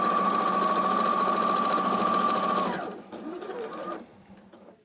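A sewing machine stitches quilt block fabric in a steady, fast whirring run with a high hum, then slows and stutters in shorter bursts before stopping, close and alone.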